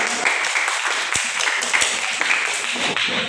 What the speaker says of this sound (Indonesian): mari kita berikan aplaus untuk kelompok 3